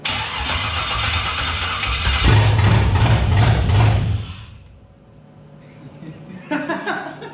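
An LS-swapped OBS Chevy truck engine cranks and fires, roaring loudly for about two seconds before it dies, then briefly catches and cranks again after a quiet pause.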